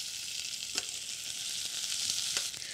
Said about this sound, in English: I'm going to add the onions. And let's saute this for a few minutes.